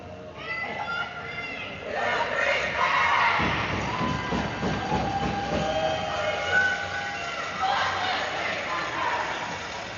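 Fans and both teams cheer and shout at a West Ferris versus St. Thomas basketball tournament game. The crowd noise swells and stays steady for about ten seconds, with voices mixed throughout.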